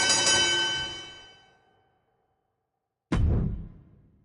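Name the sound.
wrestling ring bell in WWE 2K25 video game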